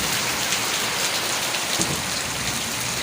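Heavy rain falls hard and steadily, a close, dense patter on surfaces that stays loud and even throughout with no voices.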